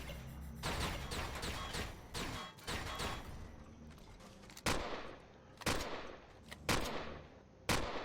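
Gunfire in the sci-fi survival game Empyrion Galactic Survival, a sustained rattle of shots giving way to sharp, separated bursts that stand out loudly over a dense background.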